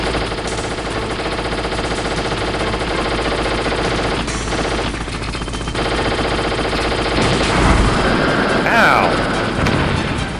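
Gunfire from Liquid Snake in the Metal Gear Solid video game runs as loud, continuous rapid bursts layered over thick game noise and rumble, with a talking voice faintly mixed in.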